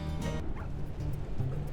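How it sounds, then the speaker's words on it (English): Dogs and coyotes barking and yipping in a video game, a steady run of overlapping barks and yips at moderate distance with a faint whimper among them. "looks like we've just got a bunch of dogs and coyotes and pretty much nothing left on the carcass"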